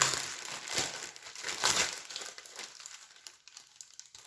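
A paper gaming mat from the Games Workshop Age of Sigmar Storm Strike starter set is unwrapped with loud crinkling and rustling up close, which tapers off into quieter, sparse crackles.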